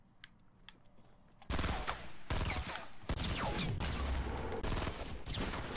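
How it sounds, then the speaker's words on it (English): Shotgun blasts in the Fortnite battle royale video game, several loud close shots in quick succession with a burst of rapid gunfire after a quieter opening. "Why are you shooting at me with a shotgun from there?"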